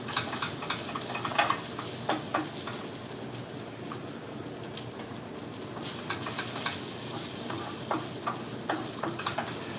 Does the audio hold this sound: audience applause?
no